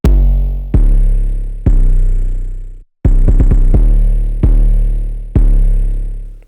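Second 808 bass in an FL Studio pluggnb beat: deep, booming sustained bass notes that decay slowly, played alone in a slow pattern with a brief gap and a quick run of short hits midway, loud and close.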